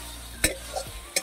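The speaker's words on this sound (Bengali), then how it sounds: "এই যে পরাশ গুটি দিয়ে পেঁয়াজ দিয়ে টমেটো দিয়ে ভালো করে কষিয়ে নিচ্ছি" Onion, tomato and peas fry in a pan with a quiet background sizzle, broken by three sharp scrapes of a stirring spoon.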